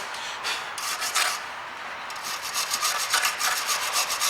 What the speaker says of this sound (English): what we can actually do is give this a good rub to get all the crap off it.